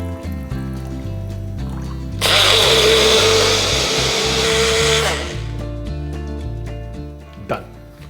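A kitchen blender grinds soaked rice with water into a slurry, a loud whirring roar that starts abruptly, runs about three seconds and cuts off, with someone talking before and after.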